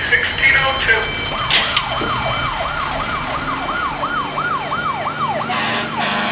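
A wailing ambulance siren, dispatched with fire engine and rescue truck to a gas odor call, rises and falls in a steady repeating cycle, loud and close, over traffic rumble and a brief burst of noise.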